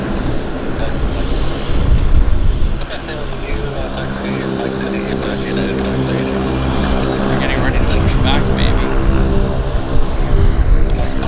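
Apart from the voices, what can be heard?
airliner jet engine running at high volume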